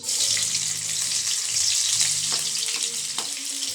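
Onions frying in a pan for papaya pancit with sardines, a steady bright sizzle running continuously throughout, close and fairly loud, with faint clinks and stirring scrapes.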